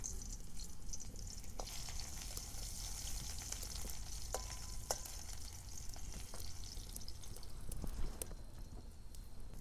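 Chopped onion hits hot oil already seasoned with dried red chilli, bay leaf and whole cumin, giving a steady close sizzle and crackle throughout with a few stirring scrapes and no voices.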